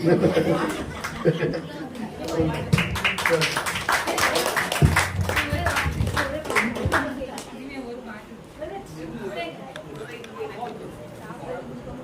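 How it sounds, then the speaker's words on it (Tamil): A Christmas celebration audience clapping, with steady applause rising and then thinning out, mixed with chatter and someone talking over it. "சீக்கிரம் முடித்துலையான்னு கைத்தட்டுறாங்க."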